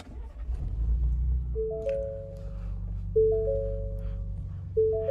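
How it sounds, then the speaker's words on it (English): A 2020 Ford F-150 Raptor SuperCab engine started with the push button, heard from inside the cab: a low, steady rumble settling into idle, with a dashboard chime pinging three times at even intervals. "Beautiful interior startup on this Ford Raptor"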